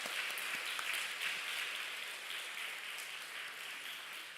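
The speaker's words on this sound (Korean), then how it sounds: "우리 인사하고 들어갈 때 다시 한번 박수로 축하하겠습니다" A Korean church congregation at Sunday worship gives a brief, faint round of steady clapping in celebration.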